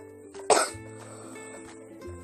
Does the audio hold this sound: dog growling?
no